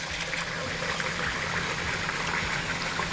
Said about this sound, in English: we're gonna start by rinsing our rice.